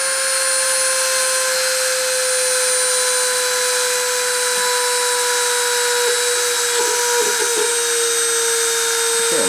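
A machining spindle spins steadily during a deposition run, giving a continuous tonal whine with high harmonics that holds level throughout, broken only by a few faint clicks near the end.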